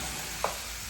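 Black beans, pinto beans and chorizo frying in a pan give a steady, close sizzle with one brief clink or stir partway through, and no voices.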